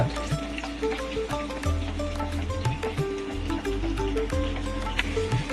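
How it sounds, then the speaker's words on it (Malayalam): Onion, ginger and green chilies sauté in a pan for crab curry with a steady, close hiss and crackle of sizzling. Soft clinks and background tones sound faintly through it. "സബോള ഇഞ്ചി ആയിട്ടൊന്ന് വാട്ടണം"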